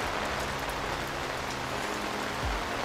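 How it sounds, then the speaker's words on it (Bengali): Heavy rain pouring down outdoors during a flower and nursery fair at Putrajaya, Malaysia, a dense, loud, continuous hiss of drops on surfaces with no voices. "প্রচন্ড বৃষ্টি হচ্ছে"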